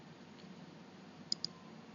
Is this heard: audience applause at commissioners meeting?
no